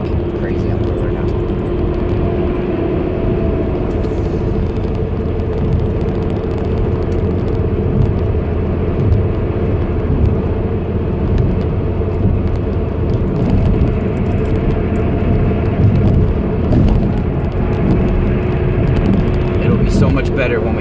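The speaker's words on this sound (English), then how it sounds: "Sorry, I'm driving. It's like crazy on the road right now." A car drives along a busy road, a steady, loud engine and road drone with continuous tire rumble throughout, while someone talks over it.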